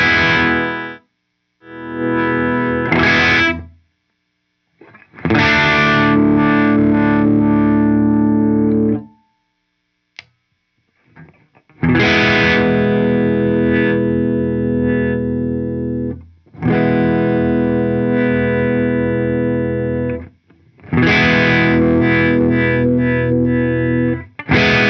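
Distorted electric guitar from an Epiphone Les Paul Custom through effects and amp heads, with a neck pickup volume pot being swept; sustained chords ring out in loud sections separated by brief pauses, with no talking.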